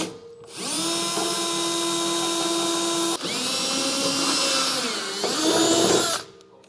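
A power drill bores mounting holes for an enclosed trailer's access ladder, three sustained whining runs close up with pitch dips as the bit bites, then it stops.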